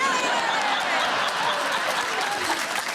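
Studio audience at a comedy panel quiz show applauding, a continuous, even roar of many clapping hands that holds steady throughout, with faint crowd murmur beneath.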